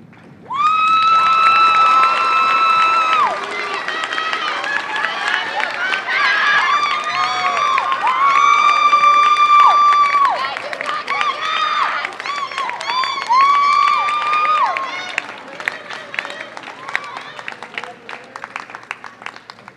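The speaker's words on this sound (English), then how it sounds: "give them a big round of applause" A high school graduation audience applauds and cheers loudly and continuously, with whoops, shouts and whistles rising over dense clapping before it gradually tapers off.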